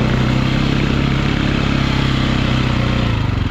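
A dirt bike with trouble staying running chugs close and loud on a Green Mountain ride, its engine a steady, throbbing run with a rough, pulsing edge and no voices.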